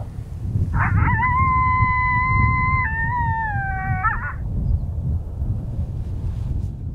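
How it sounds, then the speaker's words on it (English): A coyote howl call in open country during a hunt, one long wavering howl with a rising start, a sustained middle and a stepped, yipping fall, heard over steady wind noise. "we let out a howl and those coyotes lit up"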